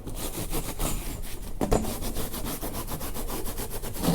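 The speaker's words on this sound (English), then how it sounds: "Just going across it, scuffing it up, giving the paint something to burn to." A maroon Scotch-Brite pad scuffs across fiberglass in quick, repeated back-and-forth rubbing strokes, an even, close scratching rhythm that continues steadily.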